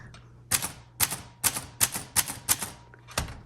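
Keys strike on a 1948 Underwood Champion portable typewriter as apostrophes are typed: seven sharp, evenly spaced metallic clacks, close and crisp, each followed by a short mechanical rattle.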